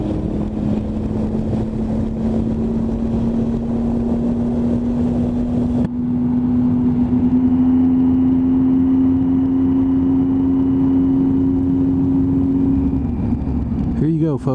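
A Triumph Tiger 800 motorcycle rides along Route 666, a loud steady engine drone with heavy wind rush that shifts and eases near the end.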